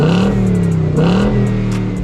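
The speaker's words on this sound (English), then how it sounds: "the Mustang already sounds cool from the factory" Ford Mustang engine revving loudly and close, two strong rising and falling rev swells with a deep growl over about two seconds, with no voices.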